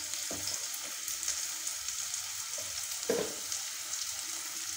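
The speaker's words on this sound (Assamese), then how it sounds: "এতিয়া মই অলপ দেৰি ৰঙা হোৱালৈকে ভাজি থাকিম" Onions fry in oil with chili powder and turmeric in a pan, the start of a pumpkin-shoot stir-fry in a home kitchen. A steady, close sizzle runs throughout, broken by a couple of brief stirring scrapes, with no one speaking.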